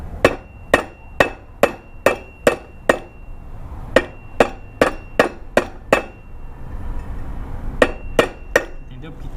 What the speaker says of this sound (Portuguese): Agora nós vem com a marreta aqui, ó, que daí ela pega nele certinho